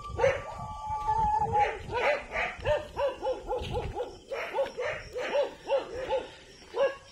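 Several dogs bark repeatedly outdoors at night, a rapid run of yips and howl-like barks at moderate distance, with a person talking faintly underneath.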